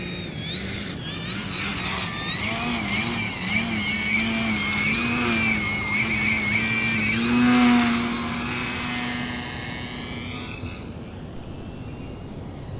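E-flite Eratix 3D flat foamy RC plane with electric motor whining in flight, pitch wavering and swelling as it manoeuvres and passes near, then easing off and fading, no talk.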